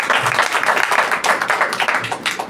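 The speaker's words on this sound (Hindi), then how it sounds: "जोरदार तालियां।" A church congregation breaks into loud applause at a Sunday worship meeting, dense overlapping clapping close and steady for a couple of seconds.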